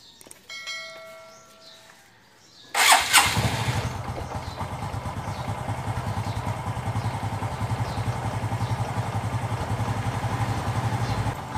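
A Honda XRM125 motorcycle engine cranks and catches abruptly after a few seconds, then settles into a steady, close, loud idle with a rhythmic low putter, and no speech.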